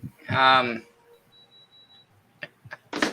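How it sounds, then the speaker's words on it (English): A thin, steady electronic beep tone from a heater thermostat holds for about a second, between a brief spoken word and some soft clicks and taps. "Sorry for the beep when I was turning my heat on."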